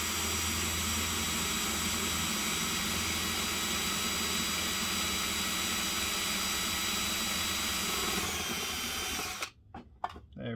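A power drill runs hard and continuously through plastic to melt a hole for hanging Ozito tools on a wall, a loud, steady whine for most of the time before it stops abruptly and a few short bursts follow.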